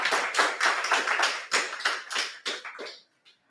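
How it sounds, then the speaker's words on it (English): Applause from a small audience at a tech data meetup: several seconds of dense, close hand clapping in uneven bursts that thin out and stop, ending with one last lone clap. "Warm applause."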